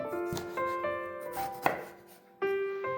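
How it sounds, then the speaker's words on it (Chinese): A kitchen knife chops eggplant into chunks on a cutting board with a roll-cut technique, giving a series of close, crisp irregular thuds with short pauses between them. "然后滚刀切法把茄子切成小块。"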